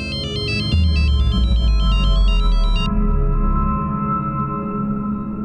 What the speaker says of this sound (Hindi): किसका फोन आ गया?